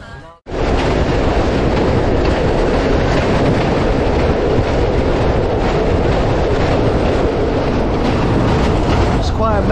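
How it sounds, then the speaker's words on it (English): Loud, constant roar of a fast-moving train in Pakistan with rushing wind and rattling wheels, heard from close by inside a carriage, starting abruptly after a short quiet moment. "it's moving quite fast, the train."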